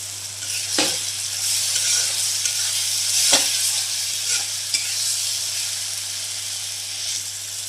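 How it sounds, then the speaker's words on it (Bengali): Chicken and spices fry in hot oil, giving a steady close sizzle with a few sharp scrapes and knocks as a utensil stirs the pan. "এই তো মশলাগুলো এবার ভালোভাবে কষিয়ে নিব"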